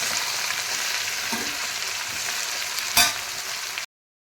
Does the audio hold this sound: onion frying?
yes